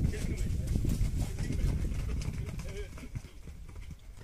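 Horses' hooves clip-clopping at a vaquejada training session in a park arena, where two riders on prepared horses work a large bull; steady hoof beats run throughout beneath ongoing talk and crowd noise.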